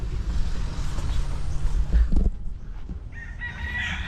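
A gamecock rooster crows in a backyard among other fowl, a loud nearby crow in the first half over a rough background of clucking, followed by a quieter tail of farmyard noise.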